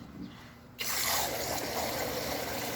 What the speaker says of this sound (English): They can just push down on that and it'll fill up for them.